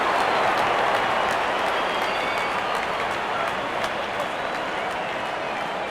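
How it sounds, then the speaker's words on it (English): A cricket crowd applauds and cheers after a six, a dense, sustained wash of clapping from a large stadium audience that holds steady and loud throughout. "Crowd on their feet to cheer the moment."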